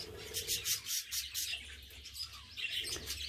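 Budgerigar chicks in a nest box give soft, rapid high-pitched chirps and peeps, a continuous faint chatter with brief bursts, heard close up with no talking.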